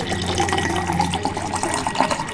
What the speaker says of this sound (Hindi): तो पानी पी रहे हैं